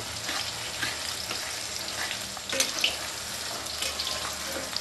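Chicken pakora frying in oil gives a steady, close hiss of bubbling sizzle that runs throughout with small crackling bursts.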